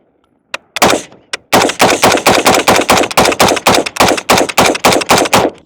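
Rifle gunfire: after two single shots, a rapid string of about a dozen loud, close cracks fired in an even rhythm, with nothing else heard.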